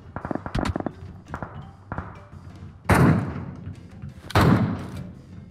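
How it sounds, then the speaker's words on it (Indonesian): Gunfire in the battle royale game PUBG, several loud sharp bursts: a quick cluster early on, scattered single shots, then two heavy booming blasts with a rumbling tail. "Di mana-mana ada tembakan."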